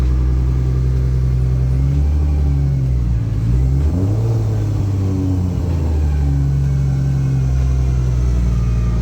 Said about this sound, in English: That's the power steering pump.